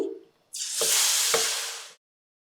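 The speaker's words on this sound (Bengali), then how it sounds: "এখন বোতলের ব্যাটারটা দিয়ে দিচ্ছি।" Bottled batter hits hot oil for a bird's nest cake (fulkochi pitha), bursting into a loud, steady sizzle that holds for about a second and a half with a couple of sharp crackles, then cuts off.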